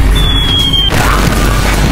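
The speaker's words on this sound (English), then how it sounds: "Bombs." A loud, deep boom from a bomb going off in a video game, beginning with a brief tone before a heavy crash that rumbles and fades over a couple of seconds.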